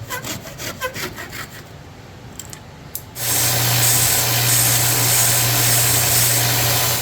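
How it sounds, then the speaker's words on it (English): A wooden dining chair part being slotted with a power saw for a new dowel, first some faint scraping and ticks, then a loud steady whining cut running without a break to the end. "it's got to cut little slots in it, so we make sure we don't tear a part up when we put the new dowel in"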